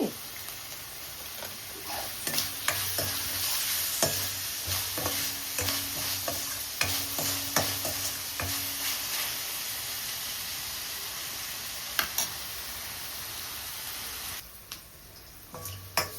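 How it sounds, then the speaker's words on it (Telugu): Onions brown in oil alongside dried shrimp for a gongura curry, a steady close sizzle broken by regular sharp clinks and scrapes of a spoon against the pan, easing slightly toward the end, with no talking. "ఇలాగా చక్కగా బ్రౌన్ కలర్ వచ్చేలాగా వేయించుకోండి."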